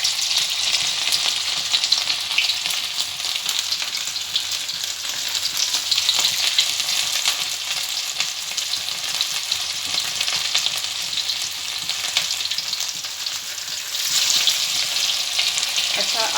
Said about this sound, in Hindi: तो चलें जी, इनको करते हैं अब हम फ्राई